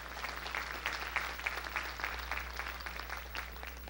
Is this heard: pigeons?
no